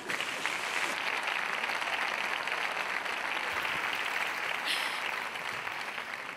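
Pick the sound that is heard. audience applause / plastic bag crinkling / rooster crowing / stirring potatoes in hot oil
audience applause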